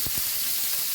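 A brief burst of chicken wings frying in hot oil, a close sizzling hiss with a couple of soft pops at the start.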